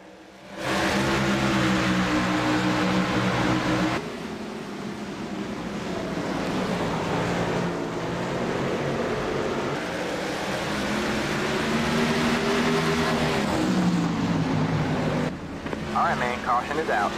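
A large pack of racing trucks in a sim racing game roars around Myrtle Beach Speedway, with a dense, continuous engine drone that rises and falls as they pass, loud and steady throughout.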